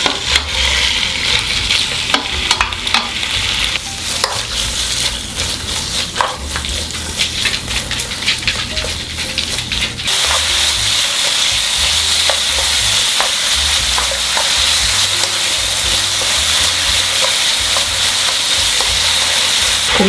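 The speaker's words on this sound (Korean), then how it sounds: "고기 먼저 넣고 볶아주겠습니다." Beef stir-frying in sesame oil in a pot for beef radish soup, a steady loud sizzle with scraping stirring strokes, growing fuller and more constant midway through.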